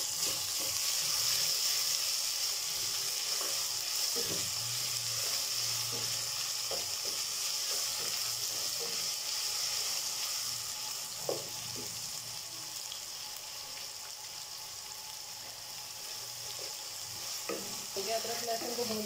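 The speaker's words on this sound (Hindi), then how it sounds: "अदरक लहसुन को भूनते रहे।" Ginger garlic paste sizzles and fries in a pan while being stirred, a steady soft hiss with intermittent scraping and clinking of the spoon, close and continuous.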